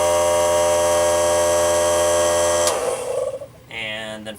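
A small air compressor runs with a steady, loud motor hum and whine, then cuts off partway and gives way to quieter mechanical noise and a brief higher-pitched tone.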